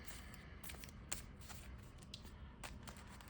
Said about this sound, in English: Get a nice little shuffle going here.